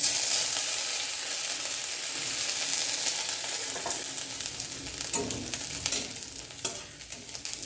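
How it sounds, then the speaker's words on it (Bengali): Chopped ginger sizzling in oil left from frying catla fish, a loud, close, continuous crackle and hiss with occasional stirring scrapes scattered through it. "এবার মাছ ভাজার তেলে দিয়ে দেব আদা কুচি ফোড়ন।"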